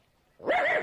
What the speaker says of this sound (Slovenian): Strašni pes Castor, Pollux, Pluton, Nero, ali ni bežala tudi mimo naša žogica Nogica?